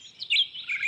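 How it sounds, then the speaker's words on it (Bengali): A single bird gives short, high chirping calls in quick broken bursts, fairly close and clear against a quiet background. "কোথাও একটা পাখি ডাকছে থেমে থেমে।"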